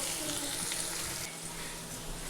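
Bitter gourd (karela) frying in oil in a pan, a steady close sizzle with a faint crackle running throughout and no speech.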